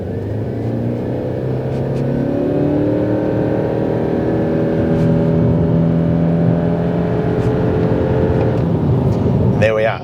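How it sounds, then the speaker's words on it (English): A 2026 Subaru Forester with 121 kilowatts accelerates hard to 100 km/h. Heard from inside the cabin, the engine drone rises steadily through the gears under a continuous road rumble, with no talk. "let's see how quickly this thing gets to 100 k's an hour"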